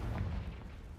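A Confringo blasting spell from Hogwarts Legacy goes off as a short, heavy, booming burst with a deep low rumble that fills the whole second, loud and close.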